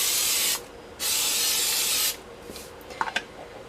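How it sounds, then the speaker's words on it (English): Two close hissing bursts of an aerosol can of pan spray spraying onto bread loaves, the second longer, followed by a few light taps and handling sounds. "on top of my loaves, I am just going to spray a tiny bit of pan spray."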